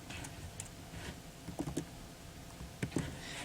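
Faint, scattered clicks of a computer keyboard as code is typed, a few light keystrokes and short clustered taps against a quiet background.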